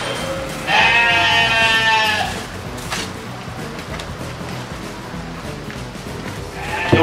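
Goats in zoo cages bleat nearby, one long loud wavering cry followed by quieter pen noise with soft knocks and shuffling, then the start of another bleat at the end.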